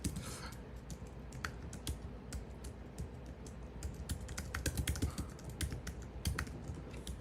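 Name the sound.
typing on a computer keyboard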